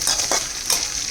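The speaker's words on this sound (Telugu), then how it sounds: "కాకరకాయ బాగా ఇట్లా టాస్ చేసుకుంటే కలిసిపోతుంది" Bitter gourd tossed and frying in a pan, a steady hiss of sizzling oil with two brief stirring scrapes, close and alone without talk.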